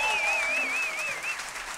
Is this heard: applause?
yes